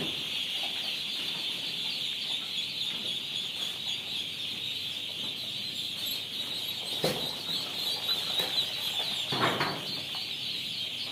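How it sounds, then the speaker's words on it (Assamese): Constant high-pitched peeping of many local chicken and duck chicks, dense and steady throughout, with a couple of brief louder rustles near the end. "লোকেল মুৰ্গীৰ পোৱালি আৰু লোকেল হাঁহৰ পোৱালি"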